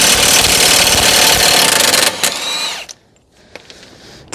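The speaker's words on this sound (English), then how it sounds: "So remove the axle nut." A power tool spins off an aftermarket axle nut with a 32 mm socket on a 2010 Toyota Corolla 1.8, passenger side. A loud, continuous buzzing whir runs for nearly three seconds, then cuts out, leaving a few faint clicks.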